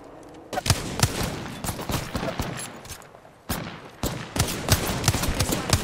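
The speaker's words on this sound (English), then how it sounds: "Taking shots. Opening fire." Rapid bursts of gunfire in a shooter video game fight, loud and repeated in clustered volleys with a short lull midway before the shooting resumes.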